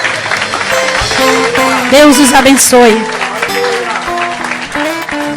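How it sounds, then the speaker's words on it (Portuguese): A church congregation claps vigorously while worship music with sustained keyboard tones plays and a voice speaks over it. "Quantos podem aplaudir Jesus com força?"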